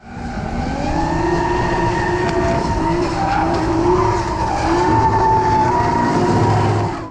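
A drift car at a Brazilian drift event loses its rear end and spins, its engine roaring loud and steady with tire screech running continuously throughout.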